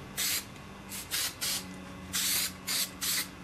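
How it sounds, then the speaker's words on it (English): Short bursts of spray adhesive hissing from an aerosol can onto a template, about seven quick squirts in an uneven rhythm, close and fairly loud with quiet gaps between. "And what you want to do is spray the template."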